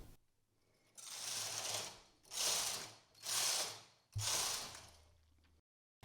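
Four back-and-forth passes of a knitting machine carriage knitting rows, each a loud whooshing, ratcheting sweep lasting about a second, with short pauses between passes.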